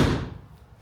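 The door of a Jaguar MKII with new rubber seals is slammed shut firmly, giving a single heavy thud close by that fades quickly into quiet room noise.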